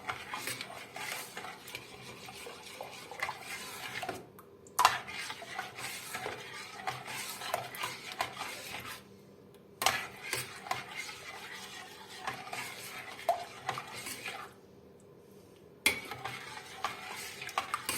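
A spoon stirs milk pudding for Turkish yalancı tavuk göğsü in a pot, making steady close scraping and rubbing with soft utensil clinks. The stirring pauses briefly about every five seconds, and no one speaks.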